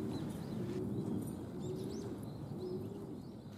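Pigeons cooing inside a pigeon loft on a mild morning, with soft repeated low coos over a constant background hum and a few faint chirps, with no one speaking.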